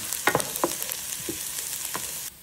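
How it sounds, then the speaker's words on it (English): Onions being stirred and browned in a Power XL cooker, giving a steady close sizzle with several scraping stir strokes over about two seconds before it cuts off, with no voices. "Put my onions in there. And I'm gonna just stir that up."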